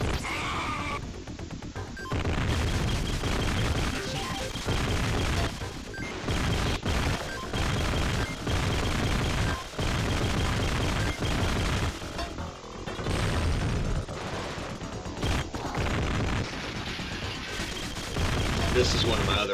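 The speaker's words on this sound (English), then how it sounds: "This is one of my other favorite weapons, the little tracer bullets" Continuous tracer-bullet gunfire from Robocop in the Sega Genesis game Robocop Vs Terminator, a dense stream of crunchy 16-bit shots and explosions over loud game music, with someone talking over it.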